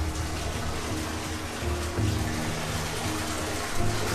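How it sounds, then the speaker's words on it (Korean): Spring water flows steadily at an old village spring in Battir, a continuous close trickle and splash with a low hum underneath and no breaks. "물소리 들리시죠?"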